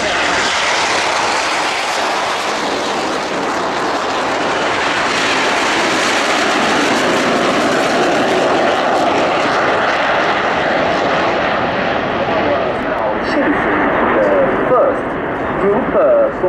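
Frecce Tricolori jet aircraft accelerating along the runway for takeoff, a loud continuous engine roar that builds and holds throughout, with a voice talking over it.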